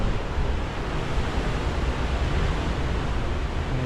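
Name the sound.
rough sea waves in force 8 winds, Malta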